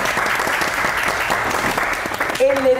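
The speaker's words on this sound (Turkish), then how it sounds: "Ayşe Hanım oluyor efendim alkışlarınızla" A studio audience on a Turkish cooking competition show claps in a loud, dense burst of applause, with voices joining near the end.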